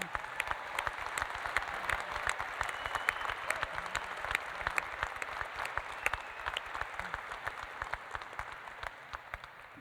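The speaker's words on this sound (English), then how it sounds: "a round of applause for our military graduates" Steady applause fills a commencement ceremony as the audience claps for military graduates, a dense, even patter of many hands that holds for about ten seconds and eases slightly toward the end.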